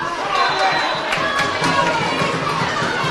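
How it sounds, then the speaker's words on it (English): Crowd at a camogie match, a steady murmur of spectators with rising chatter and scattered shouts and cheers, fairly close and continuous without a big roar. "the crowd here is starting to get into it a little bit more as it gets a little bit more exciting"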